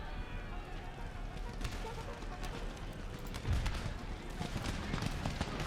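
Mortars fire during a battle in Empire: Total War, with scattered dull booms and cracks rising out of dense, noisy combat, while someone talks over it.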